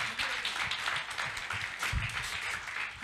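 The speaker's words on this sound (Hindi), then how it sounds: "तो मैं चाहूंगा गुरुदेव के लिए एक बार जोरदार ताली होना चाहिए साथियों।" An audience applauds at a network marketing event, a steady wash of many hands clapping together throughout, moderately loud and without any talk.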